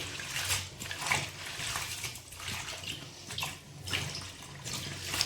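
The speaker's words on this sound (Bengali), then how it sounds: "পালং শাকটা ধুয়ে নিই ভালো করে" Spinach leaves are washed under running water from a tap in a home kitchen, with a continuous splashing, gurgling flow that rises and falls in waves as the leaves are rinsed, close and fairly quiet.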